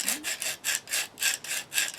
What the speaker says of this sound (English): all you're doing is just running up and down, as I say, and like a bit of a sawing motion on this blade